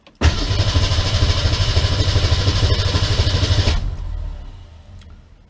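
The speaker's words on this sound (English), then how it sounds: "now we're going to see if we can get it to start on its own effort" A 1966 Ford Mustang engine cranks loudly and rapidly without catching for about three and a half seconds, then the starter stops and a lower rumble fades away; nobody speaks.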